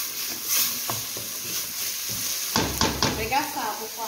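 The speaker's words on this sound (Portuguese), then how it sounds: "Coentro e a cebolinha. Vamos refogar todo mundo." Coriander and green onions sauté in a pan with a steady sizzle. Stirring scrapes and clanks break through, and a voice speaks briefly near the end.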